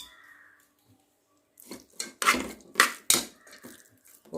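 Cooked moong dal being mashed in a pot for a jaggery payasam with sago: a few wet, squelching scrapes and knocks of a utensil against the pot, moderately close, preceded by a quiet pause.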